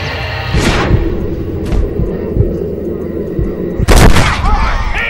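Gunfire in the Western video game Red Dead Redemption, with sharp loud shots cracking over a rumbling game soundscape and a voice speaking, one heavy blast standing out near the end.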